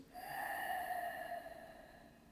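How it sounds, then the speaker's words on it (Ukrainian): A slow, steady exhale through the nose during Kundalini yoga breathing meditation, a soft breathy hiss that swells and then fades over about two seconds, close and alone with no talk. "і видих через ніс."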